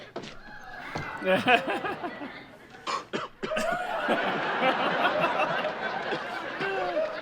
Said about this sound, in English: You got a nasty fake cough there